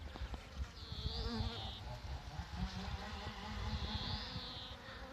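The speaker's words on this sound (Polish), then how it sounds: "Patrzcie ile tu tych pszczół." Bees hum steadily close by around poppy flowers near an apiary, with a few louder buzzing passes drifting in and out over faint outdoor background noise.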